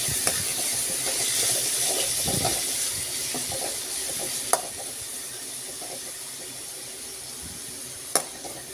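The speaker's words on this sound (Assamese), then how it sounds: "এতিয়া খুব ভালদৰে এইদৰে মই লৰাই ল'ম" Tomatoes being stirred in a hot pan for aloo paneer. A steady hiss and sizzle runs throughout with soft scraping movements, and two sharp clicks of a utensil against the pan come near the end.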